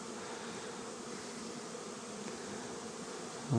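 Many honeybees hum steadily at a hive in a dense, even drone, soft and continuous with no other sounds.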